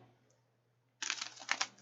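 A deck of cards being shuffled, a quiet pause before a burst of rapid, close riffling clicks for under a second.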